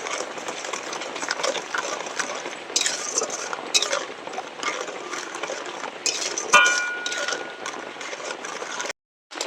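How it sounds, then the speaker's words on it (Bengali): A spoon scrapes and clinks against a pot while sugar is stirred until it melts for a homemade mango drink, giving steady light metallic scraping and occasional sharper clinks. "এবার খুব ভালো করে নাড়তে থাকবো যাতে চিনিটা গলে যায়।"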